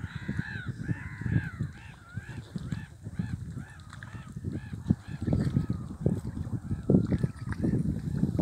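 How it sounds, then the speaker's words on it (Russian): Gulls calling over the North Crimean Canal, a busy chorus of repeated harsh, wavering cries, some near and some farther off, over a noisy outdoor background. "Чайки кричат."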